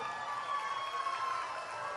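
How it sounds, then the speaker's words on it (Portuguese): Steady, dense applause from an audience honouring minister Celso Sabino at a public event, an even wash of clapping throughout, moderately distant and without clear individual claps. "Uma salva de palmas para o Celso"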